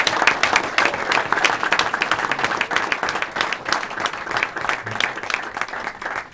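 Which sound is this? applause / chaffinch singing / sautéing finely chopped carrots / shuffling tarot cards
applause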